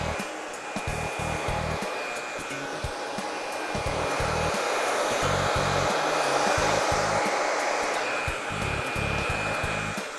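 A handheld hair dryer blows on wet hair in a steady loud roar, broken by a rhythmic pattern of short low buffeting pulses as the airflow is moved back and forth.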